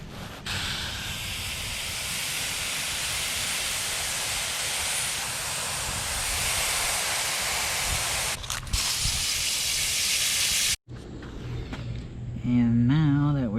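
Hard, steady hiss of water spraying over a goose skull being washed and rinsed for a European mount, running loud and unbroken for about eleven seconds before cutting off abruptly, after which someone talks.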